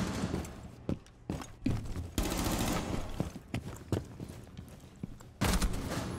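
Gunfire from Rainbow Six Siege, including an AK-47 rifle, comes in sharp bursts and single shots scattered across several seconds, separated by quieter gaps and occasional footstep-like thuds, with no talking.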